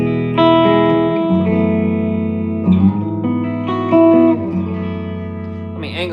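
An electric guitar played through an HDR-X20 amp in a room without reverb, with sustained, lightly distorted chords and notes ringing clearly and loudly over about six seconds.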